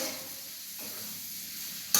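Masala dosa potato filling stirred and tempered in a pan, a soft continuous sizzle with light scraping of the spoon, moderately close and steady, ending in a brief sharper clatter, with no talking.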